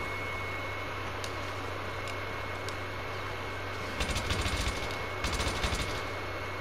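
Gunfire from an F2000 rifle in a video game: two short bursts of rapid automatic fire near the end, moderately loud over a steady hiss of background noise, with a few faint clicks earlier.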